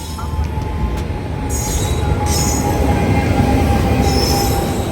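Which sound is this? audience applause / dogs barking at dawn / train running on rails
train running on rails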